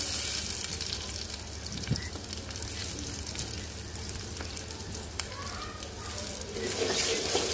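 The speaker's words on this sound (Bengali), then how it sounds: "পেঁয়াজটা ভাজবো।" Onions frying in oil in a pan, a steady close hiss and crackle running throughout, with occasional clinks and faint background voices.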